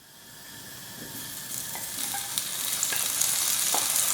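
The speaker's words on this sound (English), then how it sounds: "I've put around about a tablespoon and a half of sesame oil in the pan, and I'm just waiting for it to heat up, and then we're going to add the pork" Sesame oil heats and sizzles in a pan ahead of the pork, a steady frying hiss that grows louder over a few seconds, with faint clicks and pops scattered through it.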